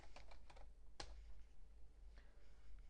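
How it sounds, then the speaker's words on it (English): Keys clacking on a computer keyboard while text is entered in annotation software, a quiet run of close taps with one sharper keystroke partway through, no talking. "The shortcut for new annotation is Alt N, and then I just regularly type"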